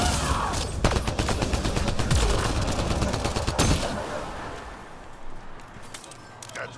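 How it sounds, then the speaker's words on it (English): Gunfire in the video game Mass Effect: Andromeda, a rapid burst of repeated shots with sharp cracks that thins and fades toward the end. "What are we still shooting at right now?"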